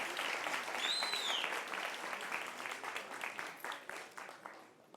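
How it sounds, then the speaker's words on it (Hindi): A theatre audience at Bharat Bhawan in Bhopal applauds the performers of the play Mahaveer Charitam. The dense clapping is steady and fairly loud, then thins and fades toward the end. "एक बार जोरदार तालियों से हम सब इन कलाकारों का अभिनंदन"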